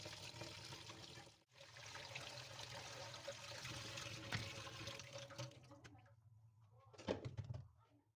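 Boiled spaghetti water pours out of a pot into a sink, a soft, steady rushing stream that tapers off after several seconds, followed by a brief splash near the end; quiet overall, with no talking.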